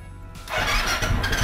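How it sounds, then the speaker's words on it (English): Motorcycle engine with a just-repaired clutch switch cranks briefly, then catches and settles into a loud, steady running idle close to the microphone. "Exactly, now the bike is starting."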